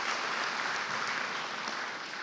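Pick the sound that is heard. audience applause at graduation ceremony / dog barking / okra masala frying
audience applause at graduation ceremony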